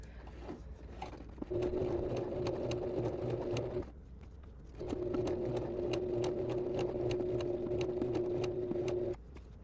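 A sewing machine stitches jacket fabric in two steady motor-driven runs with a constant hum, separated by a short pause in the middle, close and alone with no voices.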